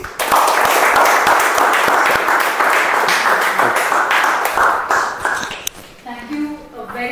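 Audience at a Toastmasters-style club meeting clapping in a dense, steady burst that fades out after about five seconds, followed by quiet room sound and a voice beginning to speak.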